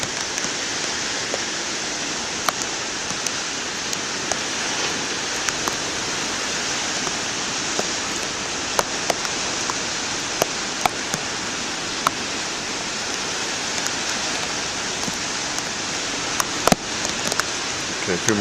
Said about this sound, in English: I'm glad it's raining and not snowing